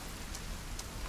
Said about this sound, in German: Es regnet, die Erde wird nass.